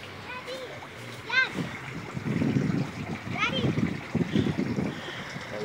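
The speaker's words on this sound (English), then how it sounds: "That's the waterfall right here." A waterfall in a Raleigh park gives a rushing, splashing wash of water under talk from an adult and a young child, heard fairly near outdoors.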